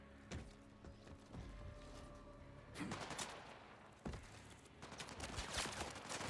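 Gunfire from the video game Borderlands 4, with bursts of rapid shots and sharp single cracks scattered through a fairly quiet game soundscape, some of them fading off.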